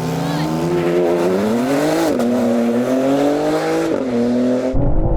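BMW M cars, including the M2, M3, M4, M5, M8, X3 M, X5 M and XM, launch in a drag race. Loud engines rise in pitch through several gear shifts in a sustained roar until the sound cuts off abruptly at the end.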